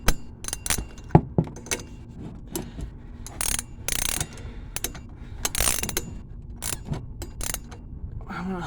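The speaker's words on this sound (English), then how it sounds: "Now let me show you how to tighten this. Get your 15 millimeter ratchet and wrench." A 15 mm ratchet tightening a front shock absorber nut on a 1999 Ford Explorer, heard as close, irregular bursts of sharp clicking strokes separated by brief pauses, with metallic handling noises between.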